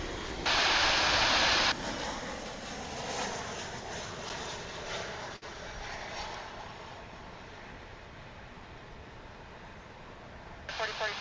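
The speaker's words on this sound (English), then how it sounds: "An American Airlines plane at DFW Airport?" An American Airlines jet at DFW Airport gives a steady, broad engine roar close by that holds through the whole stretch, while a brief burst of brighter noise near the start and a radio-like voice at the end sit on top.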